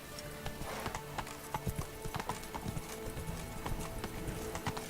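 Roach the horse gallops in Witcher 3, a steady rapid clip-clop of hooves alone at moderate volume with a soft ambient bed behind it.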